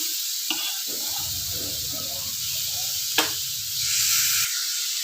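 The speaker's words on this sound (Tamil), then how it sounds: "எல்லா கிழங்கையுமே அதில் போட்டு அடுப்பு சிம்லேயே இருக்கட்டும்" Pieces of elephant foot yam fry in hot oil in a pan, giving a steady close hiss and crackle with a brief scrape of stirring partway through.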